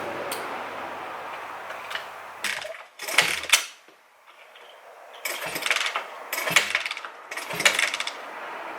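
An old motorcycle engine, with its spark plug resting on the cylinder head, is kicked over by hand, giving several sharp mechanical clanks and ratcheting clatters in separate bursts with short pauses between them, close and without talk.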